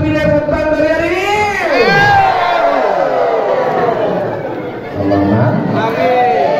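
A seminar audience cheers and shouts loudly together in sustained, rising whoops, a dense, close crowd roar with a brief dip before swelling again.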